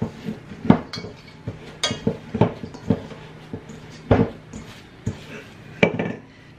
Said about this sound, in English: I'm going to spray down these loaf pans